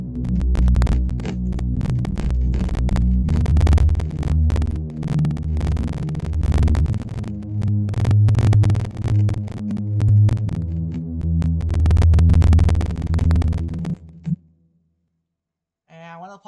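A deep synth pad bass from a homemade song throbs in long, swelling low notes, loud and steady for about fourteen seconds before cutting off into near silence with a brief flicker at the end.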